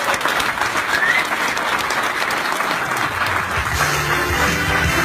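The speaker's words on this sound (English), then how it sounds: "Please welcome with a round of applause, Mr. John Preto." Sustained audience applause fills a hall as a speaker is welcomed at a blockchain coin launch event, dense continuous clapping from a large crowd without pause.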